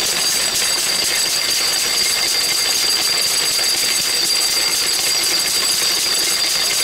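A Lister D engine driving a paint mill that grinds chalk, a loud, steady, dense mechanical clatter and hum running unbroken from start to finish.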